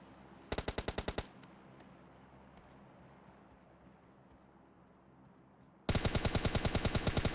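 Automatic gunfire in PUBG Mobile Lite, with two close, loud bursts of rapid evenly spaced shots, one near the start and one at the end, separated by quieter in-game ambience.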